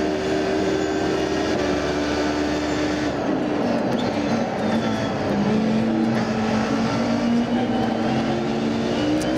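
A race car engine drones steadily as the car works through a slow chicane and climbs a hill at the Autosport International 2012 event, its tone shifting in pitch under a constant wash of loud crowd or ambient noise.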